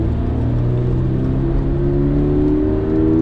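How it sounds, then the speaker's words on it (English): Stock 2022 Subaru BRZ engine held at steady revs while grip driving through a corner on track, a loud, close, continuous droning hum with rising harmonic tones and no talk. "Get the car to rotate a little. Take it straight through."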